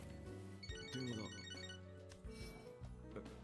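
A telephone rings in the video game Catherine: Full Body, a bright electronic ringtone chiming in repeated short bursts over quiet game sounds and music.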